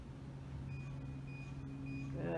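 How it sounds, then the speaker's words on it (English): A thin, steady electronic beep tone sounds faintly for about a second and a half over a low background hum, with a voice starting at the end. "Find the beep. See how long, there you go, there's your beep."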